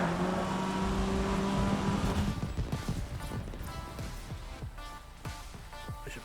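Race car in the racing video game GRID 2019 drones with a loud, steady engine note, then gives way to rhythmic thumping and clattering as the car runs on.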